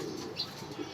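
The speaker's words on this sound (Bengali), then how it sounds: "এই যে কবুতর" A racer pigeon gives a short, soft coo, faint and close, in a quiet loft.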